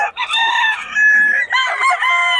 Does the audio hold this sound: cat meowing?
no